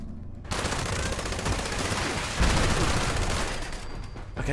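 Rapid, heavy gunfire from a two-shot weapon in Fallout 76, loud and sustained bursts of shots with dense crackling impacts, no talking over it.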